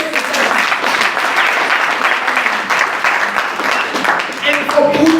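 A crowd at an ANC political gathering applauds its president with loud, sustained clapping and cheering, and voices can be heard in the mix.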